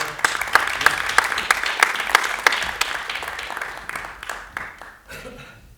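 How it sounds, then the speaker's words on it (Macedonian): An audience at a drum workshop performance applauds, with dense, sustained clapping that fades out over several seconds. "Аплаузи."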